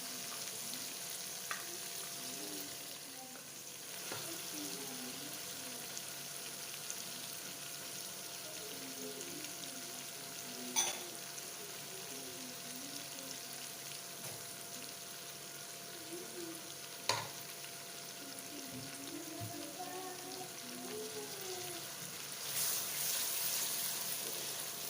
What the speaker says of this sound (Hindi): और साथ में जो है ना अदरक और लहसुन का पेस्ट भी डाल देते हैं ताकि अच्छी तरह पक जाए।